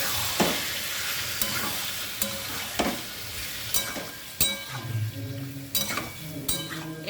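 Boiled bottle gourd sizzles and fries in a pan, with stirring scrapes and a few sharp clinks of a utensil against the metal, steady and close.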